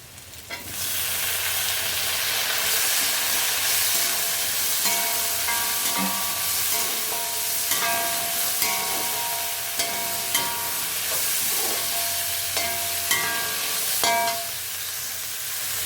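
Tomatoes sauté in a hot pan for radish sambar, a loud continuous sizzle with repeated sharp clicks of a spoon stirring against the pan, nobody speaking.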